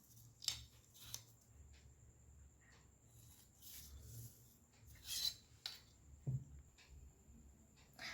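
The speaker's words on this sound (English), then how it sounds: "I have cut the smaller squares into different size for placing into the bigger square." Scissors cut paper squares in quiet, close snips, several irregularly spaced crisp cuts with faint rustling between them.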